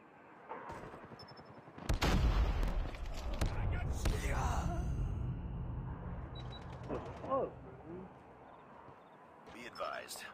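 A grenade explodes in a first-person shooter video game, a loud booming burst followed by scattered gunfire and rumble, with a person gasping and sighing over the action.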